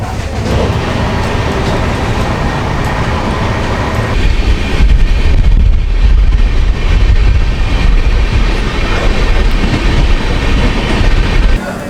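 A Vistadome coach train runs on rails between Visakhapatnam and Araku, a loud continuous rumble of wheels and carriage noise with rhythmic clatter, growing heavier partway through; no speech.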